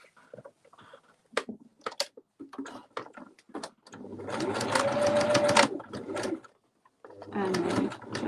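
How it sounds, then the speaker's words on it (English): A sewing machine runs in two fast, steady bursts, the second shorter, after a stretch of small handling clicks and rustles nearby. "Then back to my sewing machine."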